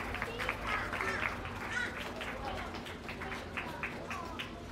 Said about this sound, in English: Please give those exhibitors a big round of applause.